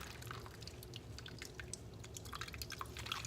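Liquid pressed from grated zucchini drips and trickles nonstop in a kitchen, many fine splashes close by over a low steady hum, no voices.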